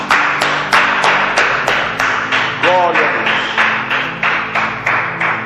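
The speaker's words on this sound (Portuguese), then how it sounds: "E as palmas bem alegres para Jesus." A church congregation claps joyfully in a steady, even rhythm of sharp claps, loud and close, while a voice speaks and exclaims over the clapping.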